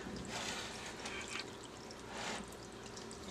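Mixed banana bread batter is poured into a bowl of mashed bananas, making a soft, wet slithering and plopping that runs in two gentle surges.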